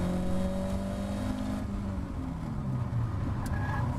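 A Caterham Academy race car engine drones loudly and steadily during a race at Brands Hatch, heard from inside the car, with its pitch falling as it slows and then climbing again as it accelerates.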